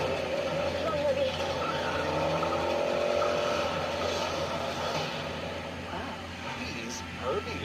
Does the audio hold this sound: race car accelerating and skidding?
yes